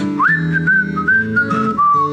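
Several people whistling together during a church service, a single sustained pitched melody line that rises at the start and holds with slight wavers, clear and close over a soft hum of accompaniment.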